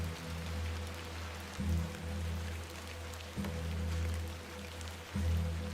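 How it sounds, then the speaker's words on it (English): Rain falling outside in the evening, a steady wash of patter under a low droning hum that swells and dips every couple of seconds, with no voices. "Terrible weather this evening, is it not?"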